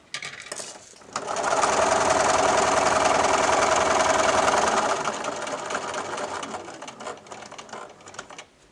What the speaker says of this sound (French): je pivote mon patch, je regarde que l'angle de mon patch, le coin, est dans l'axe de mon aiguille et je couds en biais